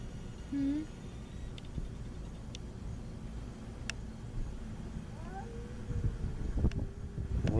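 A cat meows a few times at close range, short calls with a drawn-out one near the end, over a low background rumble.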